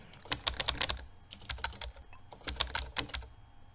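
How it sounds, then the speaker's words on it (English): Keyboard keys tapped in bursts of quick clicks for the Emily Is Away chat game, close and crisp, with short pauses between rapid flurries. "you actually have to pretend you're actually typing, but you can just like bash the keys"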